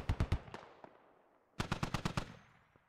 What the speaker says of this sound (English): this is a heavy machine gun emplacement